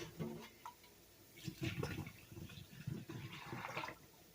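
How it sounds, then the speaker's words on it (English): Boiled pasta water being poured out of a pan for baked spaghetti, heard as a few splashy gushes of liquid, moderately loud and close, with no talking. "Getting rid of that boiled water."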